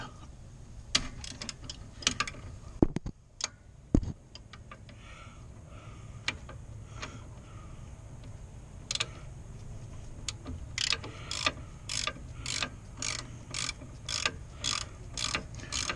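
A ratchet fitted with a 14mm socket works the brake bracket bolts on a Chevy Impala's rear brakes, giving fast rhythmic clicking in bursts. A few sharp metallic knocks come early, and a steady run of ratcheting clicks fills the final seconds.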